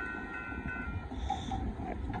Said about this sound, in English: There goes that Union Pacific Gravel Hopper Car train going through.